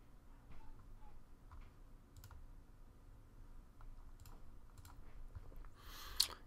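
Quiet, close computer keyboard typing: sparse, light key clicks in an irregular rhythm at low level, with a sharper burst of noise at the very end.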